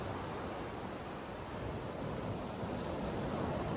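Sea surf at Boa Viagem beach in Recife, a steady broad wash of breaking waves with wind, continuous and fairly loud, without voices.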